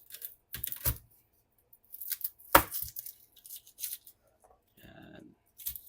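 Garlic cloves being sliced with a knife on a board, giving a handful of sharp, close cuts and scrapes in an uneven rhythm with quiet gaps between them, no talking.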